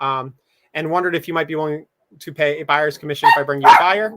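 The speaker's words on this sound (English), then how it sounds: "Sorry for the dogs." Dogs bark indoors underneath a person talking steadily, the short barks mostly masked by the speech and most noticeable toward the end.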